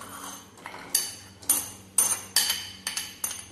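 A spoon clinks and scrapes against a bowl while hot boiled potato filling is mixed with green chilli and coriander leaves, giving about seven sharp, close knocks at an uneven rhythm over a low background hum.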